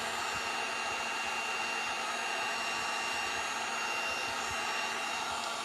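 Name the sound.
heat tool warming glue to scrape it off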